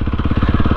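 A dirt motorcycle engine chugs close up during wheelie practice, firing in a fast, even pulsing rhythm at low revs.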